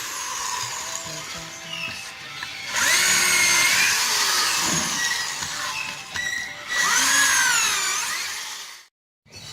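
Power drill boring holes into logs for growing shiitake mushrooms, with several long whining bursts of close, loud drilling separated by short pauses, ending in a brief silence.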